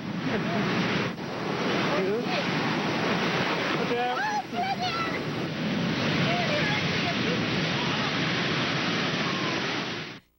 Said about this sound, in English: It shows just one of the massive waves that came crashing down on unsuspecting beachgoers.